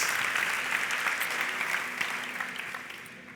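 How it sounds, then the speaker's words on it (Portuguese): A church congregation applauds during a sermon, the dense clapping loud at first and gradually fading away toward the end. "Aplauda Jesus!"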